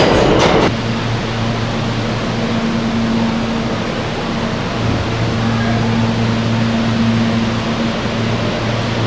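Steady low rumble and hum of a train at a station platform in Japan, with a constant mechanical drone and broadband noise, no voices.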